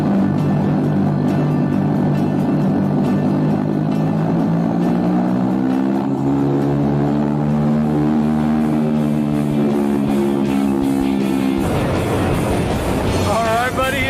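A small doorless skydiving plane's propeller engine drones loudly and constantly, its pitch bending slowly as it revs, with a sudden rougher blast of wind noise near the end.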